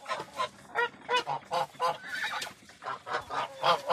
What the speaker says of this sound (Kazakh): міне бізде қалған қаздар осы